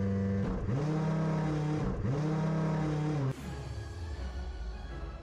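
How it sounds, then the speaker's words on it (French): A propeller-driven car runs its engine at full throttle with the handbrake on, giving a loud, steady, droning roar at maximum rotation that cuts down abruptly near the end to a rougher, lower rumble. "j'ai du frein à main et le moteur à fond"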